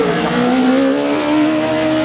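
A white-and-green single-seater race car slides through a slalom run, its engine droning loud and steady with a tire-squeal whine rising above it, close and continuous.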